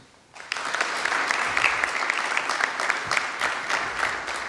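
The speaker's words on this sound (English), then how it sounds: "I would like us all to clap our hands in gratitude to each and every partner present here today or in absentia." After a brief quiet moment, a crowd at a medical students' expo breaks into steady, lively clapping that carries on evenly to the end.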